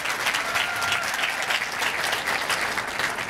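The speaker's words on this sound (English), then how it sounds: "Round of applause, please, for Shiro." A steady, dense burst of audience applause follows the introduction of a speaker at a panel on women entrepreneurs, continuous clapping from a sizable crowd with no talk over it.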